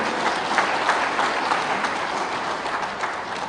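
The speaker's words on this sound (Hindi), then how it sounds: "एक बार ताली बजा दो हमारे बूथ अध्यक्षों के लिए भी।" A rally crowd claps steadily in sustained applause for booth presidents at an outdoor political rally in Ranchi, dense and continuous with no speech over it.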